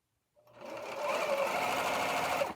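Serger overlocking the raw fabric edges of an apron, a single continuous fast whirring run of about two seconds, close and alone, starting and stopping abruptly.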